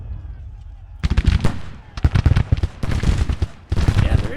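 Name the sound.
gunfire from video game Grand Tactician: The Civil War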